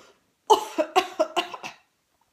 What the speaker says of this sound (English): Excuse me, I have to clear my throat.